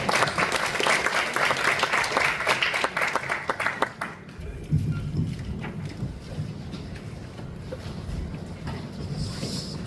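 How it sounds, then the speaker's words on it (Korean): Audience applause in a National Assembly meeting room welcoming the provincial governor, dense and loud clapping for about four seconds before it cuts off and a quieter room murmur continues. "여러분 박수로 맞이합시다"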